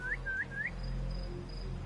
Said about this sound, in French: On va siffler